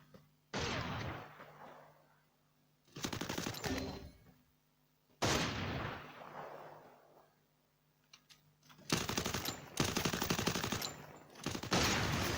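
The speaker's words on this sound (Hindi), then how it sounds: "शॉट बहुत बढ़िया, अल्फा के पास मौका, शॉट, क्या बात है" Gunfire in an esports battle-royale match, rapid automatic bursts and volleys crackling in several loud separate spurts with quieter gaps between them, no voice heard.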